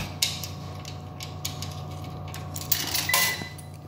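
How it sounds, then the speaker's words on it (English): Coins go into the coin slot of a laundromat washing machine: a few scattered metallic clicks and clinks, then a louder rattling cluster near the end, with no talking. "Put the money in here."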